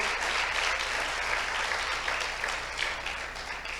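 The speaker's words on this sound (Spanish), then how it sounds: "dale palmas al Señor" A church congregation claps steadily for several seconds, a broad wash of hand claps that stays fairly even before easing slightly toward the end.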